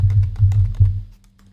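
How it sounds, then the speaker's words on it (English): Someone types on a computer keyboard into a search box: a quick run of close, soft key taps in a short burst, then the tapping stops and leaves near silence. "you can search for them by typing in this box"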